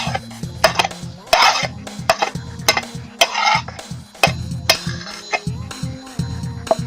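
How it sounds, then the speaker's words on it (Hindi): A spoon working through a potato cutlet mixture with onion, coriander, mint and spices in a bowl, giving repeated close clinks and scraping knocks in an uneven rhythm, with no talk. "इसी तरह से हम सारे मसालों को इसमें ऐड करके अच्छे से मिक्स कर लेंगे।"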